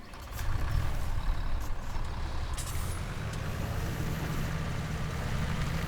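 A tractor engine in Farming Simulator 17 drones steadily with a loud, low rumble for the whole stretch, alongside a faint hiss and a few brief higher clanks.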